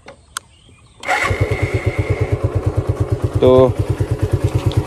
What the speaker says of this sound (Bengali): এটা হচ্ছে নর্মাল অবস্থাতে গাড়ির ইঞ্জিনের সাউন্ড।